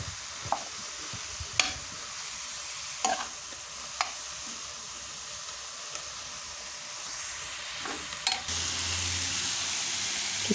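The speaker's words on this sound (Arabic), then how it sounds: "نشحرهم حتى هما" Vegetables and garlic stir-fried in a pan for a meatless vegetable quiche, with a steady low sizzle and several sharp scraping stirs of a utensil, then a louder broad hiss near the end, with no talking.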